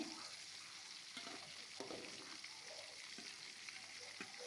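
Hilsa fish fries in oil in a pan, giving a soft, steady sizzle with occasional small crackles and pops at low volume.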